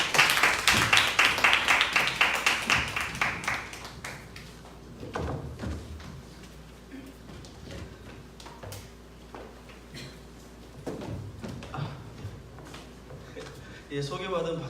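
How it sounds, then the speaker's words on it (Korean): An audience at a church gathering claps to welcome a speaker, a loud burst of many hands that fades over about four seconds, followed by talking with occasional knocks and thumps. "우리 박희동 간사님을 박수로 초청하겠습니다"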